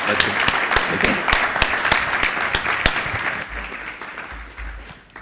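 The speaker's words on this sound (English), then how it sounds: "let's give our panel a huge round of applause" An audience applauds a panel at a talk event, giving loud sustained clapping with sharp individual claps that gradually thin out and fade, with a voice coming in at the end.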